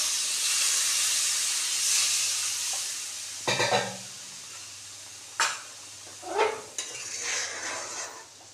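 Water goes into a pan of sizzling potol curry with mung dal, steady hissing frying giving way to several bursts of sputtering steam and stirring clatter, close, with no talking.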